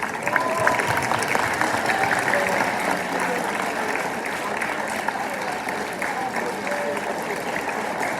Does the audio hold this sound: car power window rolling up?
no